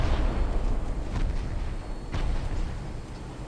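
Heavy, muffled booms and rumbling blasts roll continuously as torpedoes launch in a naval strategy video game set in a Scandinavian campaign, a loud, dense barrage with a couple of sharper cracks.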